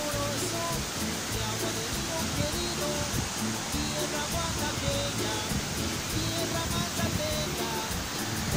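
Steady, loud rushing of the Velo de Novia river and waterfall on the way to Chichocla, a dense continuous roar of water that fills the whole clip.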